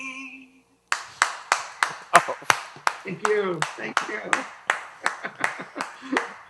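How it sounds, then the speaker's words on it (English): A small group claps in bursts of steady, sharp claps, starting after a brief pause, while a person says thanks in between. "It's so nice to see people clap."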